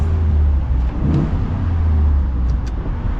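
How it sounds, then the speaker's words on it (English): Steady, deep idle rumble from the 5.0 V8 exhaust of a 2025 Ford F-150 Tremor pickup, close and loud, with a slight swell partway through and no talking. "I think I forgot to do an exhaust clip."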